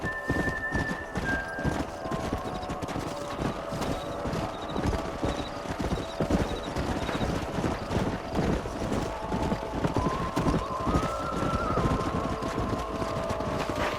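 Steady clip-clop of trotting hooves continues throughout, with occasional whinnies and a constant windy background hum, from horses in the video game Red Dead Redemption.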